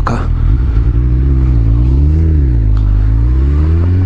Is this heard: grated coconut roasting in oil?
no